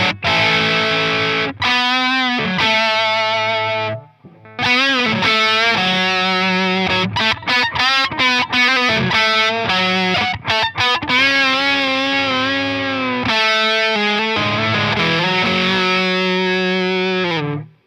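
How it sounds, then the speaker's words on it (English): Heavily distorted electric guitar through a Walrus Audio Melee distortion pedal, playing sustained chords and riffs, loud and continuous with brief pauses between phrases. "So let's just have the distortion and hear what that sounds like."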